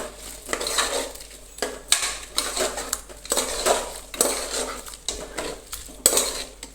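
Washed rice is stirred with spices in a pot for a savoury salted rice dish; a metal spoon scrapes and clinks against the pot in about six rhythmic, close strokes.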